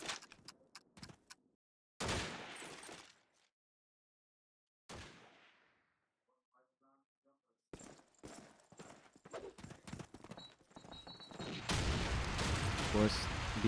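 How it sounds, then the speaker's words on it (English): Gunfire and grenade blasts in a Call of Duty 2 match, with sharp single shots and bursts separated by silent gaps, then denser cracks and a louder sustained rumble of explosions toward the end. "there's a nice shot before he gets shot down by Chica"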